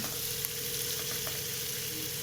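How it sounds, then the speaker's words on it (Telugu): Onions frying in a pan for a korameenu fish curry, a steady dense sizzle with a few faint stirring scrapes, close and continuous with no talking. "ఉల్లిపాయ బాగా ఫ్రై అయిపోవాలి."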